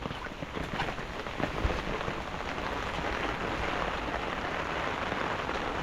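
Heavy thunderstorm rain pours down in a flooded area, a dense and steady hiss of drops hitting surfaces with a few sharper patters early on and no voices.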